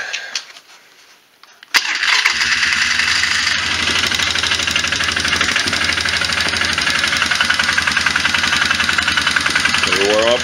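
A Polaris 500 Sportsman ATV with carburetor trouble and the choke fully open cranks briefly after a quiet moment, then catches and runs at a steady, loud, rattling idle close up.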